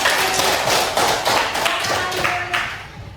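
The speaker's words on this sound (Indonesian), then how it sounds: "Tepuk tangan untuk Meti" A short burst of hand clapping from a small group, close and fairly loud, fading out after a few seconds.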